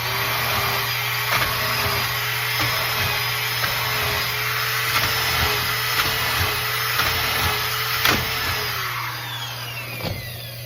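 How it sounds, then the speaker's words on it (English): Mounting drill boring binding holes through a jig into a CAST Freetour ski for a Look pivot binding, a steady loud motor whine that runs throughout with short bursts as the bit bites into wood and fiberglass, no talking. "I've already got the drill bit set up in our mounting drill."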